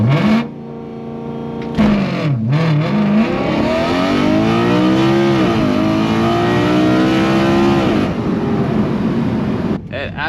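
Car launching hard with launch control: engine revs up loudly from the line, dips briefly, then pulls through a long, rising, raspy acceleration before cutting off, close and dominant.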